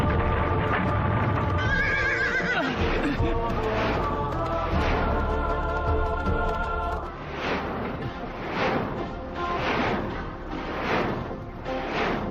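White horses with golden manes whinny repeatedly while hooves clip-clop in a steady rhythm, a dense, busy herd sound with several neighs layered over continuous trotting.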